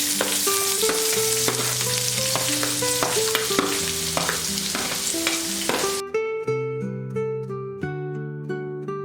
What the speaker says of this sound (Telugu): ఇలా వెల్లుల్లిపాయలు తాలింపులు మంచిగా వేగాక ఉల్లిపాయలు వేసుకోండి.